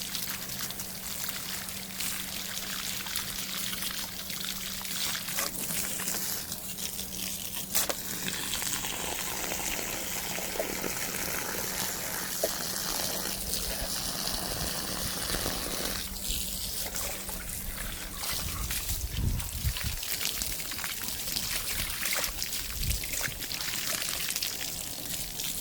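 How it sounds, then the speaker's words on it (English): A garden hose sprays water onto Bermuda grass seed in a bucket, giving a steady, close rush and splatter that shifts slightly in tone as the stream moves. "Kind of hose down the seeds as much as possible."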